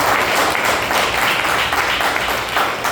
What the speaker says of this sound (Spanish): Dale un aplauso al Cristo de la